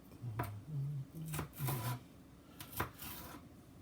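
Knife cutting raw chicken on a cutting board for fajitas, a few short scraping chops with brief gaps between them, close and fairly quiet, with a low voiced hum underneath and no talk.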